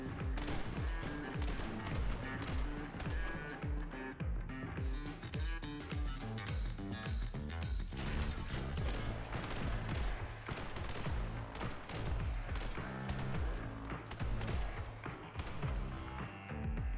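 Rapid gunfire in the action video game The Hong Kong Massacre: dense, loud bursts of shots layered over a driving music track for the whole stretch, with no pauses and no talk.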